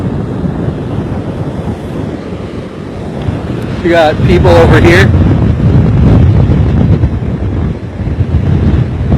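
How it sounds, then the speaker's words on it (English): Heavy surf pounding Lido Beach in Sarasota as Hurricane Michael drives waves of roughly 10 to 14 feet, with a steady loud roar of wind and breaking water throughout and someone speaking briefly midway. "These are some heavy waves out there."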